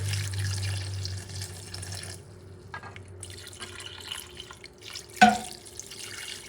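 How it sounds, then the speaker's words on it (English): Beef stock streams into a cooking pot in a kitchen, a close, steady liquid pour that trickles and thins, then ends in a brief splash near the finish, with no talk. "I'm going to add some beef stock"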